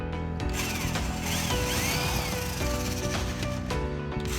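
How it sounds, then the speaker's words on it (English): A power drill whirs steadily as it drills holes into wood for a pull-up bar, with grinding, rubbing texture and shifting pitch, close and continuous, no talking. "Drill into each of the 8 marks you just made."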